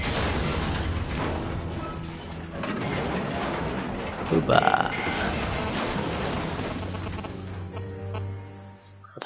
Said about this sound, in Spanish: Tampoco ha sido tan imponente la explosión